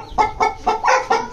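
A rooster gives a rapid run of five loud, close clucks in an even rhythm, with no voices.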